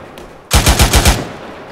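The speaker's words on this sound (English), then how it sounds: "GPMG gunner come right one. Good, good rounds, keep it there." Short burst of roughly six rapid, loud GPMG machine-gun shots fired in a military video game, rhythmic and close, with quiet ambience before and a fading tail after.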